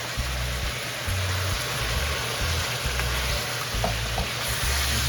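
Soaked, flaked codfish poured into a pan with peppers and onions, hissing in a steady broad sizzle with faint stirring scrapes, close and continuous, no talking.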